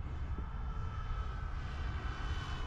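An E-Flite Mustang 1.5m electric RC warbird flies during takeoff practice, its motor and propeller making a steady, moderately distant whine and drone without a break.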